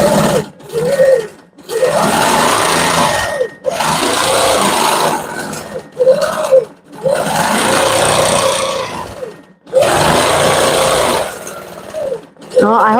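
A quilting machine stitches a feather pattern across the top of a bed quilt, running in long steady bursts of whirring stitches with short pauses between passes.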